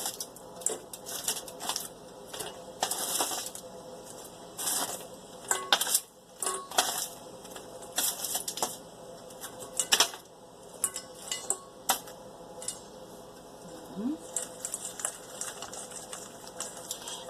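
Hot wings are dropped one by one into a bowl for coating, giving a series of irregular clattering knocks and scrapes against the bowl, close and fairly loud, without talk.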